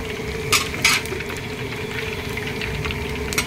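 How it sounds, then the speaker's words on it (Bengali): Curry leaves, dried red chillies, black mustard seeds and five-spice tempered in hot oil in a pan, a steady close sizzle with a couple of brief sharp spatters and crackles, no talking. "ফোড়ন দিয়ে নেবো, কারি পাতা, শুকনো লঙ্কা, কালো সর্ষে আর পাঁচ ফোড়ন, ফোড়ন দিয়ে নিলাম।"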